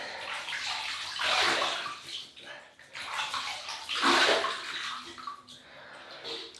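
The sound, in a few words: water splashing while wetting the face before shaving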